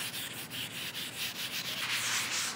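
A cloth rubs CLR cleaner over rusty paint on a 1967 Chevrolet C10 in steady back-and-forth strokes, a soft close scrubbing sound with no voices.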